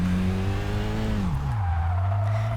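Car wheels locking up under heavy braking in the Kaido Racer 2 racing game: a loud, steady engine drone falls in pitch as the car slows, with a tire squeal running under it throughout.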